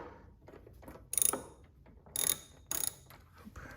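Ratchet tightening the carburetor mounting nuts on a Toro Power Clear 621 QZE snowblower, with three short bursts of rapid clicking separated by pauses, close and clear.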